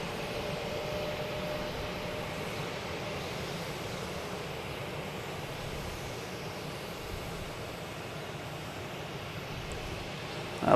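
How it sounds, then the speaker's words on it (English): American Airlines Airbus A321 jet landing at Boston Logan Airport, a steady distant roar of jet engines with wind noise, holding level throughout before a brief bump at the end. "A321 American Airlines coming in from Charlotte."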